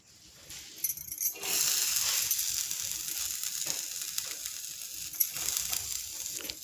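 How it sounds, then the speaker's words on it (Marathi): Chopped onion roasting in a hot pan, a steady bright sizzle that starts after a second and holds throughout, with occasional small clicks and scrapes, close and moderately quiet. "सर्वात आधी आपण कांदा भाजून घेऊया"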